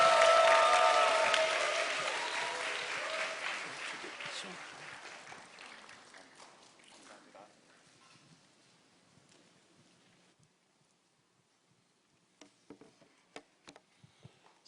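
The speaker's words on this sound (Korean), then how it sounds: "우리 박수로 환영하도록 하겠습니다." Church audience at a youth summer retreat revival service applauds to welcome the pastor, a loud burst at the start that thins and fades over several seconds, leaving scattered claps and near silence.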